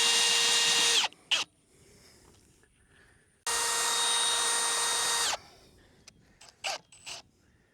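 A power drill drives a screw into a pin-on insulator on a high-tensile wire fence. It gives two steady, whining bursts of about one and two seconds, with quiet gaps and a few small clicks between them.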